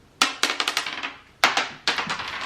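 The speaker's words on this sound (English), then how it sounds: "Roll a dice and win a prize." A die is rolled twice across a hard surface, each throw a sharp clatter of quick bouncing clicks that fades into a short rattle, with a pause between the two rolls.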